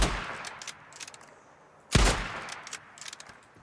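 A single sharp gunshot in the video game Days Gone, fired at a speaker mounted on top of a pole, bursting out loud over a quiet, faintly rustling ambience.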